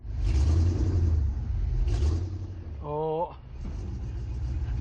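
Pickup truck stuck in one-wheel drive, its engine rumbling loudly and steadily at close range as it struggles, with a brief whining tone partway through and talk over the top.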